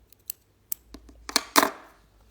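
Scissors snip through crochet yarn in a few quick, sharp cuts, growing slightly louder toward a final firmer snip, close and otherwise quiet.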